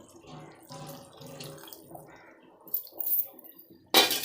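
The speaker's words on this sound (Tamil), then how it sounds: "இதில் கொஞ்சம் புளி தண்ணி மட்டும் ஆட் பண்ணிக்கோங்க" Tamarind water being poured into a simmering fenugreek curry (vendhaya kuzhambu) in a home kitchen, with speech early on and a sudden close, loud splashing pour near the end.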